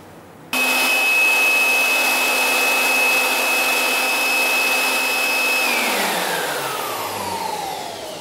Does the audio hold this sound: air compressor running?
yes